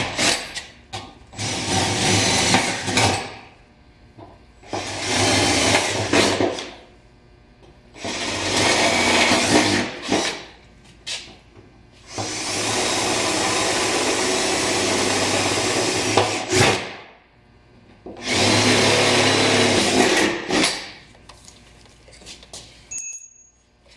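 Step bit enlarging bolt holes in a Land Cruiser 200 Series fender for a Safari snorkel install, heard as five loud grinding, whirring bursts of a few seconds each, separated by short pauses, close up with no talking.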